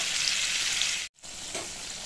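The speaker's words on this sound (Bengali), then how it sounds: "এই উচ্ছেগুলোকে আমি এবার ভালো করে ভেজে নেব" Bitter gourd pieces fry in hot oil in a pan with a steady, close sizzle, which breaks off briefly for a moment and then resumes a little quieter.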